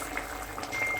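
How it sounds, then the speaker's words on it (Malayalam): Fried onions sizzle in coconut oil in a pan, a steady bubbling hiss, close and moderate in level, with no talking. "ഉള്ളി വറുത്ത് ഇങ്ങനെ ഇടാം വെളിച്ചെണ്ണയിൽ"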